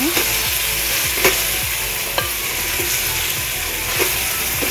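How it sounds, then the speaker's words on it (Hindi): Chicken, onions, garlic and spices for chicken korma stirred in a sizzling pan, a constant frying hiss broken by repeated scraping strokes and spoon knocks at an irregular pace, close and without talk. "इसको भी मैं सारे मसालों को अच्छे से मिक्स कर लूँगी इसमें"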